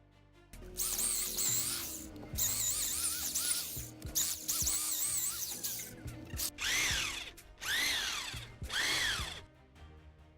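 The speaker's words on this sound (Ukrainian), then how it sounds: "Для цього знадобиться перфоратор і бур 25 діаметру. Починаємо висверлювати." Repeated bursts of loud, whining rotary hammer drilling into a concrete wall with a 25 mm bit, several seconds each with short pauses between, the high grinding pitch rising and falling as the bit bites in.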